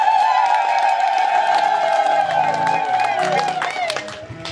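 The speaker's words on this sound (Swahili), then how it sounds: "Naomba tuungane naye kumpigia Mwenyezi Mungu makofi." A church congregation applauds, with cheering and whoops mixed into sustained clapping, loud and close, while people's voices carry over the noise.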